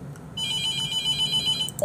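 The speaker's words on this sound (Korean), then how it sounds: "전화 오겠죠?" An electronic telephone ring in a horror game set in a mortuary starts after a short quiet moment and trills in a steady, bright, repeating pattern, loud and alone.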